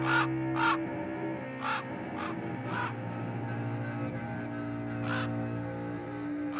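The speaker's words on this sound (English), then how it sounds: "in there stepped a stately raven of the saintly days of yore" A raven caws in several harsh, separate calls, close and clear, over a low sustained musical drone.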